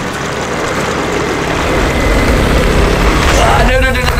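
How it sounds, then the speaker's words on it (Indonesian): A motorbike engine rumbles and grows louder as it approaches outdoors, ending with a sharp rising whine near the close. "Keluar kameramen. Ada motor."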